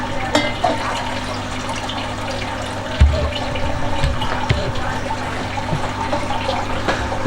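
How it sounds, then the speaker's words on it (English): Water is poured from a jug into a beaker of rum at a rum school in Dartington, Devon, giving a continuous splashing, gurgling pour that thickens and grows louder midway, close and clear with no talk over it. "we're going to use this water to top up your beaker now to the 700 line"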